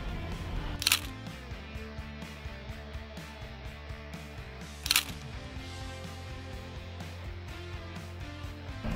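A single-lens reflex camera shutter fires twice, set to f/5.6 at 1/250 for a two-shot composite portrait; two sharp, close clicks about four seconds apart over a faint background hum.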